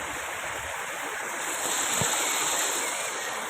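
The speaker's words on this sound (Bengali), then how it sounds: "আর এই জলটা এই দিক দিয়ে বয়ে এর ওপর দিয়ে যায়" Stream water flowing over a small weir near Belpahari, a steady close rushing hiss with a continuous broadband wash and no talk.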